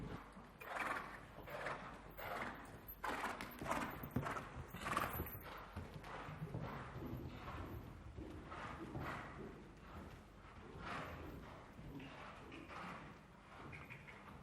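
Horse hooves clip-clop in a steady, even rhythm during a dressage exercise, each footfall a soft thud on the arena surface, moderately close and continuing for the whole stretch with no talking.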